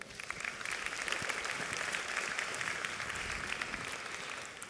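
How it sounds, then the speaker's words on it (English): A conference audience at an FMX 2016 virtual reality panel gives a sustained round of applause, a dense, steady wash of many hands clapping that holds evenly for several seconds. "Let's give John a round of applause"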